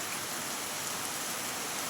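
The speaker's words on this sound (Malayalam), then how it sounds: "കാറ്റും മഴയൊക്കെ കണ്ടുകൊണ്ട് ഞാൻ വീഡിയോ പിടിച്ചതാണ്" Steady rain with a light wind pours down outdoors alongside bright sunshine, a dense, even hiss with no breaks and no voices.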